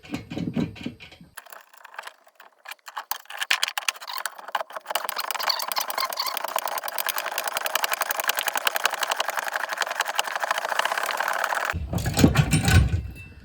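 A Blasted 250 ATV engine cranks with a few sputtering bursts, then catches and runs in a fast, steady buzzing idle at close range before cutting off, followed by a short clatter.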